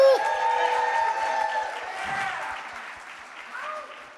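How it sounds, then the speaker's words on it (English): An audience at a Blackweek event applauds its organizers, a steady wash of clapping with some cheering voices mixed in, fairly loud and close, tapering slightly toward the end. "Can we have a round of applause for the Blackweek organizers"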